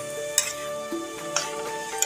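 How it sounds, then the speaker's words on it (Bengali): Spinach being stir-fried in a hot pan, a steady quiet sizzle broken by a few sharp scraping stirs of the spatula, close and alone with no talk. "এবারে গ্যাসটাকে আমি বাড়িয়ে দিয়ে গ্যাসের স্পিডটাকে বাড়িয়ে দিয়ে ভাজা করে দেবো"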